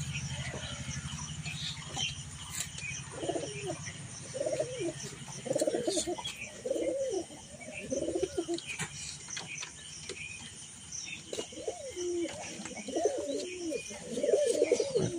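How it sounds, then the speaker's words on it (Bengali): A male pigeon coos in repeated low, throaty bursts, close by and fairly loud, with brief pauses between phrases and a few faint chirps from other birds in the background. "ছেলে পায়রা"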